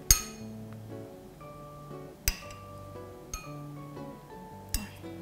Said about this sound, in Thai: เอามะยงชิดใส่ถ้วยเอาไว้นะคะ สัก6ลูกก็ได้